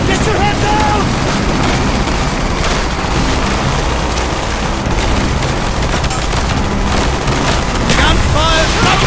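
Gunfire in the video game Call of Duty: Black Ops: a loud, dense battle mix of rapid shots, bursts and booming impacts running continuously, with shouted voices over the fighting.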